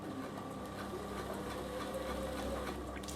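A Bernina sewing machine stitches a straight seam in a steady, fast mechanical patter, close by and fairly quiet, with a low motor hum underneath while a lunch cooler bag is sewn.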